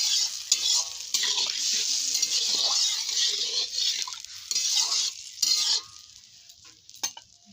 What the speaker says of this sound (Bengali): আমি হালকা নেড়ে ছেড়ে নেব।